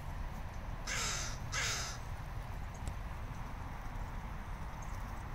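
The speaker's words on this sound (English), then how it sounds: "Hi, Mr. Crow." Two harsh crow caws in quick succession, fairly close, over a steady low outdoor rumble, then only the background noise continues.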